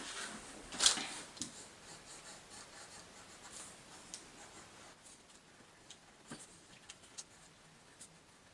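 A pencil scratches across a paper template for a guitar body, faint and close, with one stronger stroke early on and then light, sparse ticks and rubs.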